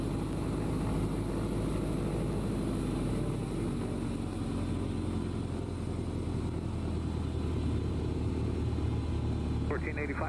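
Piper Cherokee light single-engine propeller plane in Microsoft Flight Simulator 2020, a steady droning engine rumble held throughout, with radio chatter from air traffic control over it.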